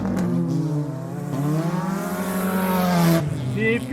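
Race cars in the Old Milwaukee 30 scream past on the straightaway, their engines rising and falling as they approach and pass close by, one after another, beneath an announcer's commentary.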